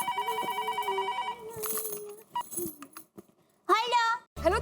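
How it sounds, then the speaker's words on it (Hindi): A telephone rings with a repeating electronic tone, followed by scattered clinks and a brief high-pitched voice near the end. "दया भाभी को फोन करके बता देती हूँ।"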